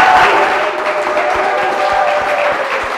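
A studio audience at a Ghanaian quiz show gives a round of applause, a dense wash of clapping that stays loud throughout, with faint tonal sound beneath it.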